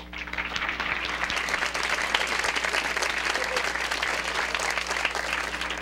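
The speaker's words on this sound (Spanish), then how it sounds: "me permito solicitar un fuerte aplauso para todos ustedes y para el comité" Dense, steady applause from an audience at the ITAM Model United Nations 2015 meeting, clapping for the organizing committee. It is loud and continuous for the whole stretch, with no pause or break.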